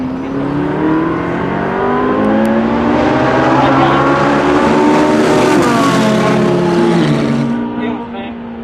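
A Ferrari race car accelerates hard through its gears on a track at Albi, engine note rising in loud sweeping pitch climbs, close and continuous with brief dips at gear changes.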